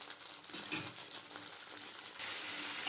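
Spices and chopped tomato for a cabbage dish sauté in oil with a soft, steady sizzle, one louder spurt near the start and a slightly fuller hiss toward the end.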